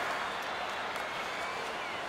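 A steady crowd murmur fills a hockey arena in NHL 23, a broad, even buzz of spectators with faint clapping, continuous and moderately distant throughout.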